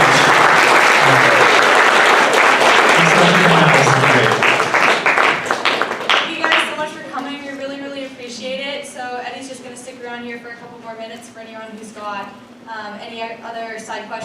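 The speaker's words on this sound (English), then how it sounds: "Can we give Eddie a round of applause for that?" Audience applause after a speaker series talk, loud dense clapping for about six seconds that quickly thins out, followed by people talking close by.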